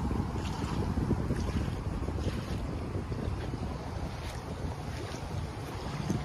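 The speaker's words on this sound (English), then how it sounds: "Another thing that's not in our advantage, the wind blowing directly at us." Strong wind gusts roar against a boat on open water, a loud, continuous low rush with buffeting on the microphone and faint lapping of waves underneath.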